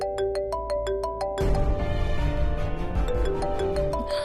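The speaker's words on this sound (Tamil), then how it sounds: "இவன் ஏன் திரும்ப திரும்ப போன் பண்ணிட்டே இருக்கான்?" A phone ringtone plays a repeating electronic melody loud and close, starting alone and then continuing over a busier background of music and noise.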